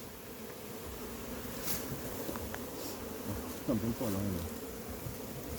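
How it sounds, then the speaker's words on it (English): Honey bees from a massive captured hive buzz in a dense, steady drone while being placed into brood boxes, with a brief voice speaking over the swarm. "So we are just putting the bees inside."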